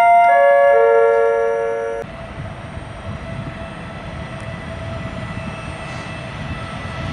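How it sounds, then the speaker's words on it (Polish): An Odra express passes through a station without stopping, its loud horn blaring for two seconds before giving way to a steady rolling rumble of the passing train. "Po torze drugim przy peronie pierwszym przejedzie pociąg bez zatrzymania"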